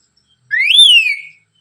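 A pet parrot gives a single clear whistle, rising then falling in pitch, lasting under a second, loud and close against silence.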